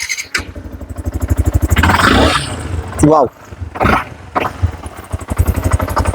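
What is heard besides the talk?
Yamaha R15 S motorcycle engine starting and running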